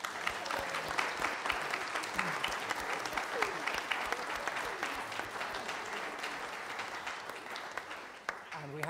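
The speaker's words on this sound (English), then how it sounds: "Let's give him a big round of applause." Church congregation at a Sunday service breaks into sustained, even applause that fills the room for several seconds before tapering off, with a voice briefly audible near the end.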